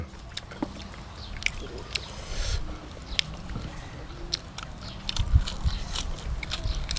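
Close, crisp biting and chewing on grilled frog eaten with papaya salad, with scattered crunches and crackles at an uneven rhythm over low background rumble.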